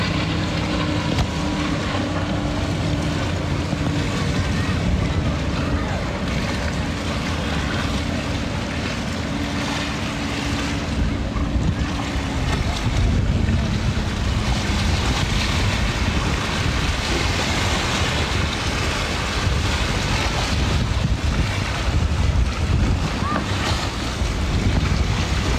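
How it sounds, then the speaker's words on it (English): Boat moving on open water, with constant heavy wind buffeting the microphone, waves washing against the hull and a low engine drone underneath, loud and unbroken throughout. "Here's the next boat."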